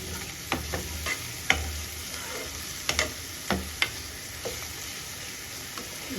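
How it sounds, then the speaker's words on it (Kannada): Garam masala and ginger garlic paste sizzle in hot oil in a pan, with a steady frying hiss under scattered sharp clicks and taps from a spoon stirring against the pan. "ಸ್ವಲ್ಪ ಗರಂ ಮಸಾಲ, ಶುಂಠಿ ಬೆಳ್ಳುಳ್ಳಿ ಪೇಸ್ಟ್, ಈಗ ಫ್ರೈ ಮಾಡ್ಕೋಬೇಕು."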